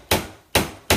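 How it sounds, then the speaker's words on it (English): A hammer strikes a wall three times in uneven succession, each blow a sharp, loud, close thud, heard alone while pictures are being hung at home. "There's my hammer."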